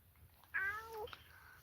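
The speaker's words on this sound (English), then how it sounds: "there's a cat here" A cat gives a single clear meow, close and moderately loud, lasting about half a second against a quiet room background.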